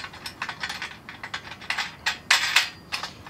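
Nut being turned by hand onto a bolt on a solar ground mount leg assembly, a series of quick ratcheting clicks and metallic ticks in irregular bursts, close and fairly crisp.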